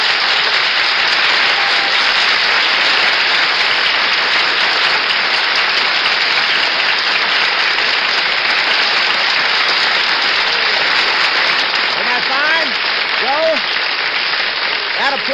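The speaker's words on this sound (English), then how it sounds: "That applause is for you" Sustained, loud applause from a 1949 radio studio audience after a Yankees reliever is introduced, steady dense clapping throughout with a faint voice emerging near the end.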